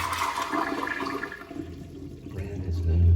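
A Toto toilet flushes in a store restroom with a loud, steady rush of water that swells toward the end, with a faint voice in the background.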